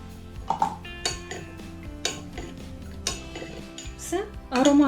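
Scalded choux dough for pelmeni dumplings is mixed with cold boiled water in a bowl, with a utensil clinking and scraping against the bowl in uneven taps that grow busier toward the end.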